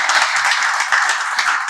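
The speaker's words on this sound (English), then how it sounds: "it deserves another round of applause." Steady, dense applause from a crowd, many hands clapping continuously without pause.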